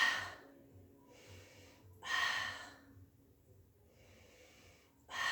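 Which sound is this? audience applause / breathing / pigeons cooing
breathing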